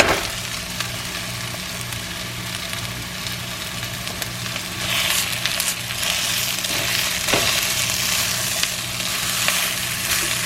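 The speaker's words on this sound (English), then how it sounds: "Let's go ahead and get our hamburger in there" Ground hamburger meat sizzles and fries in a pan for homemade chili, a steady close crackle with scraping stirs that grows a little louder partway through.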